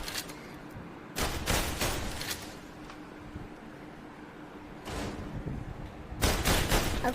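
Gunshots from the Shooting Range in the VR Worlds video game: a few bursts of sharp, fairly loud shots at intervals, separated by quieter stretches of background noise.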